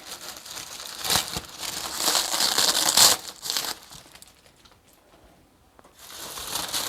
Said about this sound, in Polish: Dzięki temu, że to jest taśma papierowa, to bardzo fajnie można to wszystko od, odkleić.